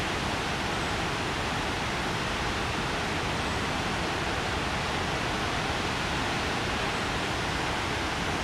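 Steady, loud rushing roar of a mountain waterfall at high altitude, close by and unbroken, with no other sounds above the continuous wash.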